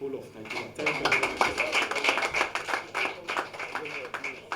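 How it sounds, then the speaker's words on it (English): A crowd at a Nigerian political party gathering applauding the party's national chairman, with steady dense clapping under someone speaking over a microphone. "I think the national chairman deserves a better applause."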